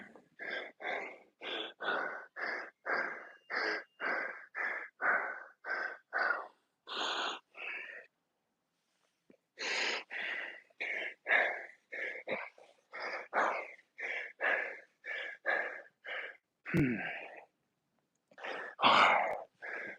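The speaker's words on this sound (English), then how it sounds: "My breathing's all fucked up." Heavy, rhythmic panting and wheezing after a set of heavy deadlifts, with loud close breaths in steady bursts, a short pause midway, then ragged gasps and a groan.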